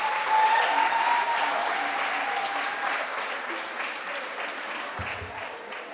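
At a midwifery, obstetric, neonatal and child health conference, the audience applauds a speaker with dense, sustained clapping that is strongest at first and gradually thins, with faint voices mixed into the crowd.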